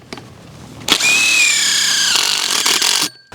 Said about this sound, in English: just secure them with Tech screws